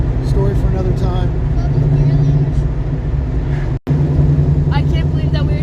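A Ford 302 V8 in a Mustang runs at about 1,000 rpm with a loud, steady low rumble that is close and continuous, and someone talks over it throughout.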